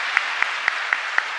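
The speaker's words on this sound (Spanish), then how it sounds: "Fuerte aplauso para el Señor entonces." Congregation applause in a church during a live parish service, with five evenly spaced distinct claps standing out over a steady hiss of background clapping.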